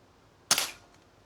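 A single sharp crack from an S400 air rifle shot striking a paddle target outdoors, brief and moderately loud, quickly fading against faint background noise.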